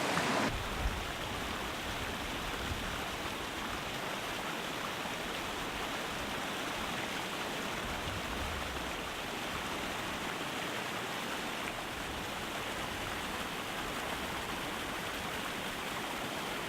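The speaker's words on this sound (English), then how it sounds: "I just came up to this waterfall" A moorland waterfall on a stream high on the Long Mynd pours in a steady, broad rush of water. It sounds close and continuous, with no voices over it.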